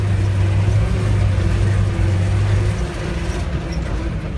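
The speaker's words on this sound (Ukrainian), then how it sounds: "А де ви навчилися на газону їздити?" A car engine runs steadily and loud while the vehicle drives across a lawn, a low continuous hum that eases slightly toward the end, with no one speaking.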